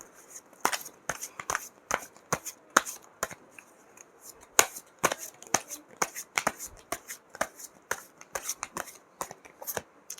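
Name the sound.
shuffling and drawing tarot cards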